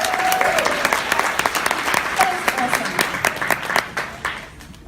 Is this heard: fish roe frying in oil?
no